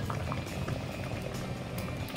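Thick Congolese wild broth with smoked fish simmers on a stove in a pot, with a close, steady bubbling and soft popping that runs without pause.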